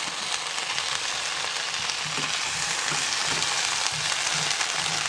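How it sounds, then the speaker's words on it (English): Potatoes and string beans sizzle steadily in a hot skillet, a continuous close frying hiss with faint stirring movements, no voices. "I'm just going to pop them right into this same skillet."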